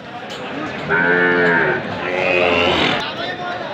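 Sahiwal bull calves mooing nearby at a cattle market, two long drawn-out calls back to back over a low murmur of voices and background bustle.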